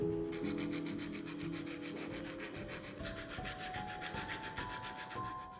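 A small file rasps back and forth over the edges of the wheel hole in an old wrench held in a vise, steady rhythmic metal strokes, close and continuous with no talking.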